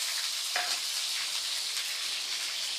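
Curry leaves and whole peeled garlic cloves frying in oil with fenugreek and mustard seeds for a green chilli gravy, a soft continuous sizzle close by with one brief clink, no talking.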